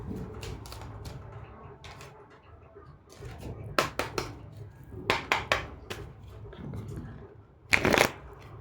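Tarot cards are shuffled close by in several quick riffling bursts with short pauses between them, and a soft voice talks faintly underneath.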